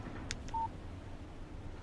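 In the video game Alan Wake, a phone text message alert gives a couple of short electronic blips and a brief tone. It sounds faint and quick against a low background hum.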